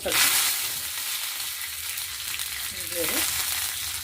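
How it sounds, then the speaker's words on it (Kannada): Curry leaves dropped into hot oil with spluttering mustard seeds for a tempering, giving a bright close sizzle with a sharp burst at the start and another flare near the end, no talk. "ಈಗ ಸಾಸಿವೆ ಸಿಡಿತಾ ಇದೆ. ಅದಕ್ಕೆ ಕರಿಬೇವು,"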